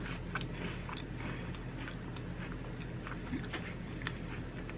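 Close, crunchy chewing and biting on a Gingerbread Oreo cookie, with steady irregular crisp bites and mouth sounds, no talking.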